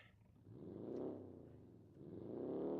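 A low video-game car engine, an Autobello Piccolina in BeamNG.drive, hums and rises in pitch as if revving, then drops back and climbs again, smooth and faint.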